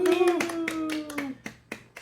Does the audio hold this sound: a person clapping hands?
yes